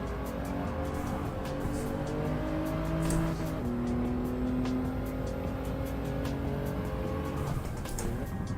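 Gran Turismo 7 race car engine on PS5 held against the rev limiter, a steady buzzing drone with flat harmonic lines and occasional pitch shifts, continuous and loud with faint tyre noise.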